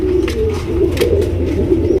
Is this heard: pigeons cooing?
yes